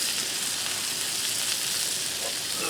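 Sausage, peppers and onions frying on a Blackstone griddle, a dense continuous sizzle and crackle heard up close with no talking.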